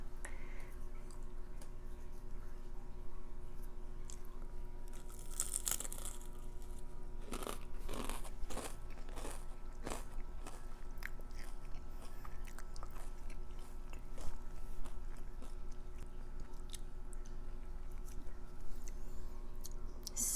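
Crispy crab cream cheese wontons are bitten and chewed, giving a few close, sharp crunches in the middle of a steady low background hum, with no voices.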